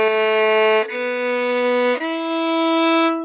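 Bowed string instruments sustaining three smooth held notes in a row, a low B then an E, in a Twinkle Twinkle exercise, loud, close and without talking.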